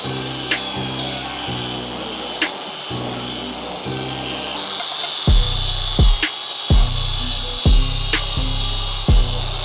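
A Scotch pad scuffs back and forth over metal bar work before painting, giving close, rhythmic abrasive rasps with a series of sharp knocks and scrapes as the strokes repeat.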